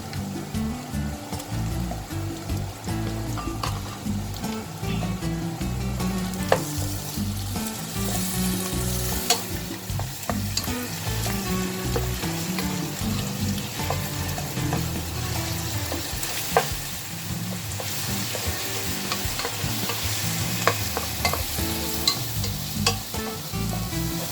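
Golden fried onions with ginger-garlic paste sizzling loudly in a pan, with continuous vigorous stirring and scraping, close and constant throughout.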